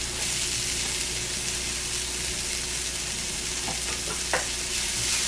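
Minced garlic and shredded carrots sizzle steadily in a hot pan of teriyaki chicken fried rice, a constant bright frying hiss with a few scraping stirs of a utensil near the end.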